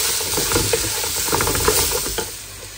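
Rice frying in ghee with bay leaves in a pan for biryani, a steady close sizzle with stirring scrapes, no talking.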